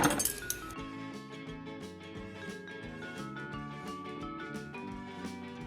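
Spicy Nongshim Toomba ramen is mixed in a bowl with its creamy chili-oil sauce, giving quick repeated clinks of utensils against the bowl at an even rhythm, close and clear.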